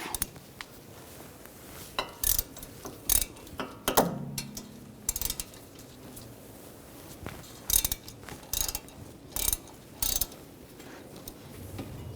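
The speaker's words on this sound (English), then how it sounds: "Using a 8mm hex socket, take these two bolts out." A hand ratchet with an 8mm hex socket loosening two brake caliper bracket bolts on a 2011-2014 Dodge Dart rear brake, with bursts of rapid clicking separated by pauses, close and fairly quiet.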